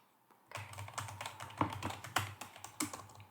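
Soft typing on a computer keyboard in a quiet room, a brisk run of light clicking keystrokes close by, some taps slightly louder than others, with no talk over it.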